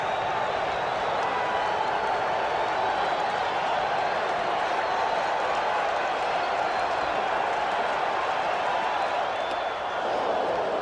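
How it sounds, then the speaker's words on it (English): Steady roar of a baseball stadium crowd at a World Series game, Boston Red Sox at New York Mets, a dense, continuous wash of cheering and chatter with scattered claps, loud and unbroken throughout. "if you like crowd noise, if it does something to you, you come to the right place and at the right time"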